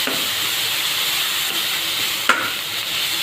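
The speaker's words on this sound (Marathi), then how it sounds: "टोमॅटो पण छान परतलाय।" Tomatoes sauté in a pan with a coriander tempering while a dry cabbage vegetable dish is made. A steady, close sizzling hiss runs throughout, broken by one or two light stirring knocks.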